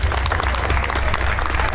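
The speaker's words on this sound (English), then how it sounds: "So I'd like everyone to please give them a hearty round of applause." A stadium crowd at a Juneteenth event claps for the grounds crew, a dense steady wash of applause with no break.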